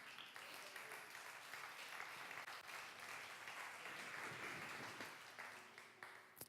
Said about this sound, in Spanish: Aplauda su nombre en esta noche.